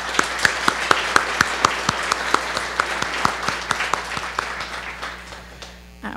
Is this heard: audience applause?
yes